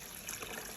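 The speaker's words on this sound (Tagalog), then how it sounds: "So ibubuhos na po namin dito yung tubig." Water being poured over eggs in a container to submerge them, a short soft trickle and splash heard up close, faint and continuous.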